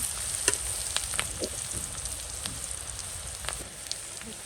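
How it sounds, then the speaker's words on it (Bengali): Steady sizzling of onions and chilies frying in hot oil, with scattered scraping stirs and light pops throughout; no talking. "আমি একটু প্রথমে পেঁয়াজ মরিচটা ভাজা নিতেছি"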